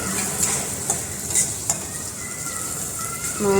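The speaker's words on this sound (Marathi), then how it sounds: "तो कट करून घेतला आणि तो देखील याच्यामध्ये ॲड केला आता तो फ्राय करून घेऊयात" Boiled potato pieces fry in a pan for sabudana khichdi, giving a steady soft sizzle with occasional stirring clinks, close and moderately loud with no talk.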